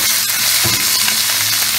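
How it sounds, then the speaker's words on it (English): Loud, close sizzling of chicken and rabbit frying in a hot pan for paella valenciana, a constant crackle with occasional pops and stirring. "we are frying now the chicken and the rabbit"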